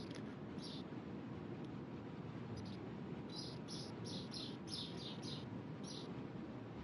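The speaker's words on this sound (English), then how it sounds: "I can hear birds cheeping" Birds cheeping in short bursts within a video game, faint high chirps repeating over a steady broadband rumble of in-game ambience, with no talk.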